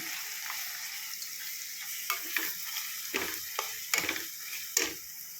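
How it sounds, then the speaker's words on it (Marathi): Ground onion-garlic masala with turmeric and red chilli being sautéed in hot oil for a kala masala curry, giving a steady close sizzle broken by several sharp stirring scrapes. "तर आता आपण आज छानपैकी परतून घेऊया तेलामध्ये"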